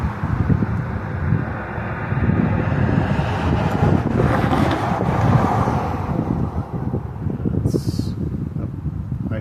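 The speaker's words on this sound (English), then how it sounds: "The wind is starting to pick up." Wind picking up ahead of a thunderstorm in hilly country around 2,000 feet, a steady loud gusty roar buffeting the microphone with no break.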